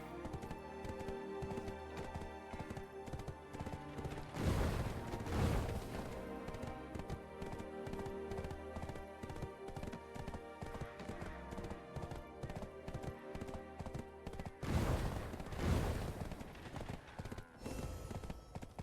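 Steady clip-clop of horse hooves in Black Desert Online over a continuous music bed, the rhythmic trotting running throughout with two louder swells of noise, and no talk.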